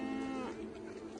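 Cattle lowing in a short, drawn-out moo that holds steady then fades, set under a faint background murmur with no other sounds.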